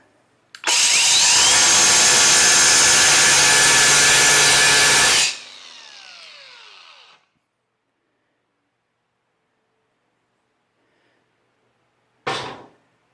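A cheap Amazon cut-off wheel on an angle grinder bites into clamped metal with a loud, harsh whine for about five seconds, then spins down, followed by silence and a brief final burst.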